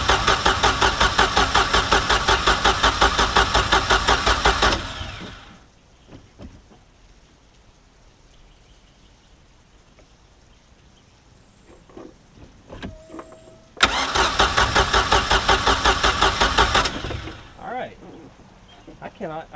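A Mercury MerCruiser 3.0 boat engine that sat nine years, fitted with a new fuel pump and carb, cranks in a loud rapid rhythmic churn for about five seconds, stops, then cranks again in a second burst without catching.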